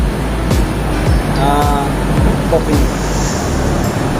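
A Viar Karya dump truck idles with a steady low engine rumble, revving in short surges as its right-hand lever is worked to raise the dump bed, with a faint whine of hydraulics in the middle.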